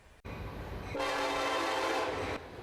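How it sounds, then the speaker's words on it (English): Train rumbling through the small college town of Clemson, South Carolina, blowing a loud, sustained horn over the steady roar of rail cars, close by and alone. "the trains that thunder through the sleepy college town"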